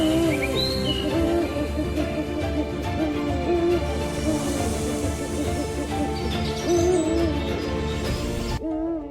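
An owl hoots in a wild savannah setting, giving a few soft, low calls over a dense, continuous background of other sound that runs throughout.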